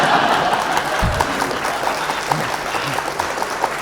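Audience applause at a Hindi comedy poetry gathering (hasya kavi sammelan), a steady wash of clapping lasting throughout with a couple of low thumps near the start.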